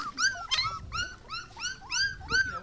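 A dog in a Kampala slum gives a run of rapid, evenly spaced yelping barks, close and clear, with faint rumbling underneath and no talking.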